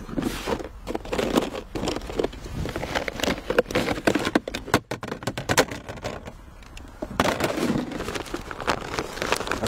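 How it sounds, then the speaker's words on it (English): Rain falling at Bristol Airport, a dense, continuous patter of drops beating hard on nearby surfaces, loud and close with scattered sharper taps. "now it is actually proper raining"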